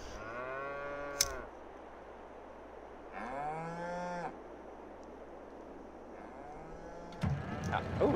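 Cows mooing in Farming Simulator 22, three long drawn-out moos spaced a few seconds apart over a quiet steady background hum, with a brief sharp click and a rising noise at the end.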